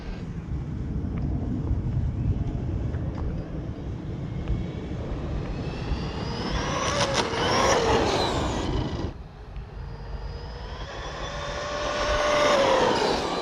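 Traxxas Maxx RC truck running at full throttle outdoors, a steady high-pitched electric motor whine rising and falling over continuous wind rumble, swelling near the end as it passes closer.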